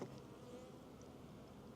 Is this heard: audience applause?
no